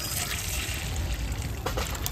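Hot water, freshly boiled, poured a little at a time onto rice flour for rice-flour roti, a steady close trickle and splash with no voices.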